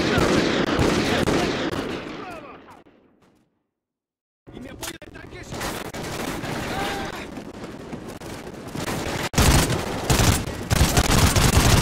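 Gunfire in the Call of Duty war game comes as dense bursts of automatic fire and explosions, then a few seconds of silence before more shooting and rumbling combat resume, loud and close.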